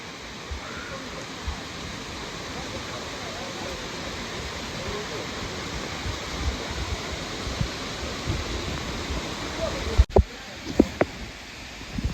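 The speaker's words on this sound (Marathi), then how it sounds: "आता आवाज येता धबधब्याचो" A forest waterfall at Jambhavade roars as a steady, dense wash of rushing water, with a few sharp clicks and knocks near the end.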